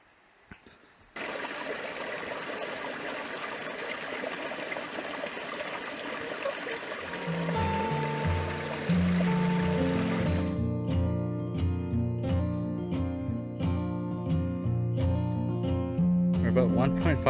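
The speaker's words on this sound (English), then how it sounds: "Here's the creek." A flowing mountain creek along a forest hiking trail gives a steady, close rush of water that continues throughout, partly masked later by overlaid tonal sounds and rhythmic clicks.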